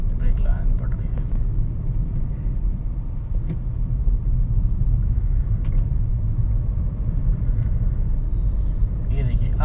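A car running in third gear through slow city traffic, with a steady low engine and road rumble that holds at an even level throughout, under a person talking.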